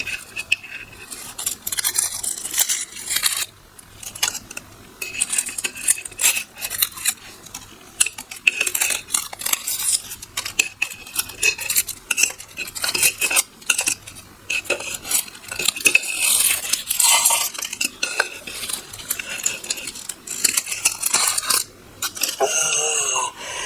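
Close, crisp snapping and crackling of succulent leaves being pulled off the plant, a dense run of small clicks and scrapes without talking.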